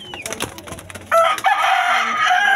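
Pigeons in a loft give soft coos and flutters, followed by a louder, sustained bird call that rises up close for the final second or so.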